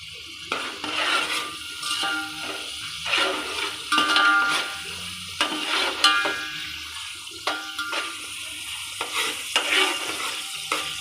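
Onions frying in a pan for a Ramadan special biryani: a continuous sizzle broken by repeated rhythmic scraping stirs of a spoon against the pan, close and fairly loud, with no talking.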